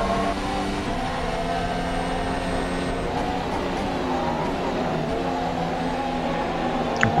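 A racing car engine in the Assetto Corsa video game on a Bahrain Grand Prix mod drones continuously, its whining pitch rising and falling with throttle changes over several seconds, loud and steady.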